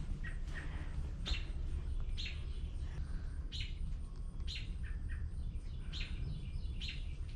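Birds chirp outdoors at a yard sale, with short bright calls repeating throughout over a steady background hum and no talking.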